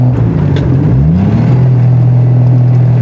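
A Triumph TR6 engine drones steadily while driving, loud and close, its pitch sliding as the gear changes in and out of overdrive, then settling into an even hum.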